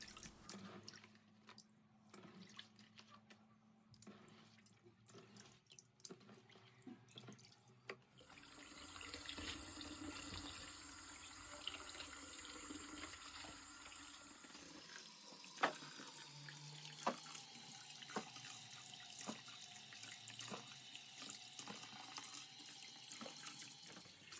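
Sour cherries are washed under running tap water in a sink, a steady hiss and splash of flowing water that shifts in tone as the stream changes, with scattered drips and clatter throughout.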